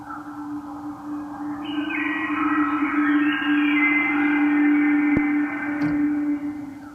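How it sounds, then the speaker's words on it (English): Wind and bird song ambience built as a layer for a film score: a steady airy wash with a sustained low hum beneath, and bright warbling chirps entering partway through, continuous for about seven seconds with no voices. "And then the second one is a wind and bird song,"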